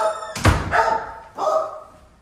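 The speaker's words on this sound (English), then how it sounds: "Oh, we got dogs." Dogs barking at a wheel repair shop, a few loud nearby barks and yelps in quick bursts with a pause between them.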